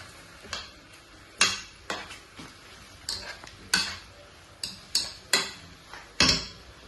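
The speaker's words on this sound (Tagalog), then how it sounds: "haluin po natin ng konti" Chicken and ginger stirred in a cooking pot for ginataang manok with papaya and malunggay, a utensil scraping and clinking against the pot in about a dozen sharp, irregular strokes, close and fairly quiet.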